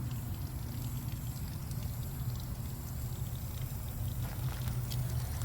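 Water trickles out of a garden drip irrigation line as a faint, steady low flow, with no talking over it.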